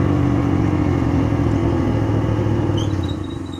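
A Rusi 200cc motorcycle climbs a road uphill, its engine giving a loud, close, steady rumbling drone that fades slightly near the end.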